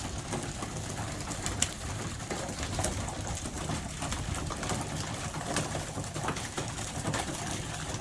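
Pigeons coo steadily in a loft among young birds, soft repeated calls with occasional wing flutters and scratchy movement, no voices.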